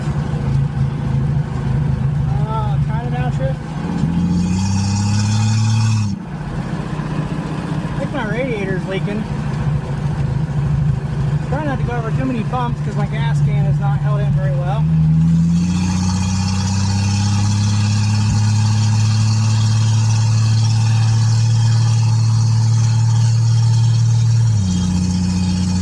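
A 1966 Ford Falcon engine runs close up, idling and then revving with rising and falling pitch through shifts and longer steady pulls, loud throughout, with voices talking over it in places.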